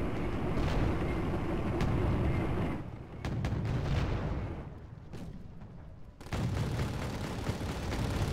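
Shoulder cannon fire in the video game Wargame Airland Battle, heavy booming blasts and rumbling explosions in loud bursts separated by brief quieter gaps, with no talk over it.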